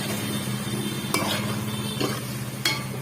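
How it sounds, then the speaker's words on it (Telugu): A spoon works through an aloo palak fry of potato and spinach in a pan, giving soft scraping stirs over a steady low sizzle, with a few sharp clinks of the utensil against the pan's rim. "ఇప్పుడు ఈ 2 కలిసేటట్టు కలిపేసుకొని ఇప్పుడు సిమ్లో పెట్టేసుకోండి."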